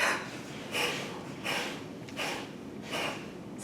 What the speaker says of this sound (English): So first we'll start with a big deep inhale.